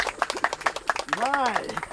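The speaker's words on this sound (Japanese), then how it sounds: "拍手拍手拍手。" Hand clapping during a Japanese food review of Funabashi pears, a few quick near claps mixed with lively talk and a sung or voiced melodic line.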